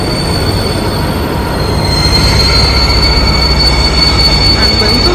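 A train bound for Berlin rolls steadily and loudly nearby in Nuremberg, Germany, wheels grinding and squealing on the rails, with a continuous rumble and a faint high whine throughout.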